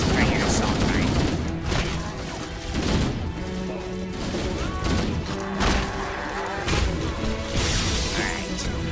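Assault rifle gunfire in Halo: Combat Evolved Anniversary, with loud rapid bursts and impact crashes in a chaotic firefight that carries on throughout, and voices heard at times over the shooting.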